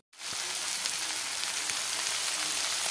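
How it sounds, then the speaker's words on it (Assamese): Potatoes and dangbori sizzle steadily in a hot pan at home, a dense, continuous crackle of frying oil that starts abruptly and holds close and even throughout, with no talking. "আৰু এই আলুৰ লগত ভাজি দিওঁ"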